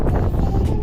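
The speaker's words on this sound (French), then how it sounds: "Il y a beaucoup de vent." A strong wind buffets the microphone outdoors with a dense, roaring low rumble, loud and unbroken for under a second.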